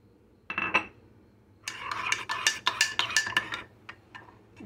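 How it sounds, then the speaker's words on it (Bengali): A spoon stirs soaked chia seeds with ginger juice in a glass. A brief rattle comes first, then a quick run of close metallic clinks and scrapes against the glass that fades to a few lighter taps. "ভালো মতো নেড়ে নিচ্ছি।"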